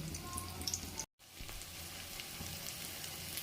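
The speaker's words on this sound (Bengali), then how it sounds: "এদিকে কড়াইয়ে তেল গরম করতে দিয়েছি, এগুলো দুটো ভাজতে দিয়ে দিয়েছি" Puffed rice patties frying in hot oil in a wok over a low flame give a steady close sizzle and crackle, broken by a very brief silence near the start.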